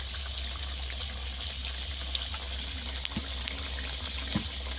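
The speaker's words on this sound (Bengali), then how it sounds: "বেটে নিয়েছি, অল্প একটু জল দিয়ে দেবো।" A little water is added to a ground paste of cinnamon, cardamom and clove for a river-prawn dish, heard as a steady close stream of running water from start to finish.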